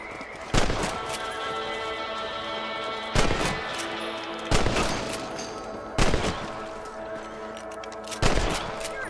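Rifle shots ring out during rabbit hunting on a ranch in Red Dead Redemption: five sharp cracks spaced a second or more apart over steady ambient game sound, with no talking.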